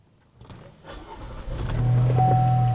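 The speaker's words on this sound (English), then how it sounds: "Okay, the engine started." Chevrolet Traverse engine cranking and catching, rising from quiet into a steady idle with a low hum and a faint whine, close by with no talk.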